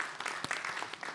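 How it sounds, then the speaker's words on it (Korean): Audience clapping for speakers being welcomed at a Korean church theology symposium, a short burst of scattered claps at moderate distance. "우리 박수로 환영하겠습니다"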